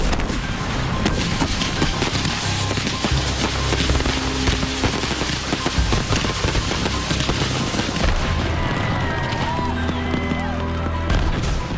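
Fireworks shells and comets launching at a nighttime display in rain, a dense, continuous barrage of sharp pops, thumps and crackles from a distance, with faint voices underneath.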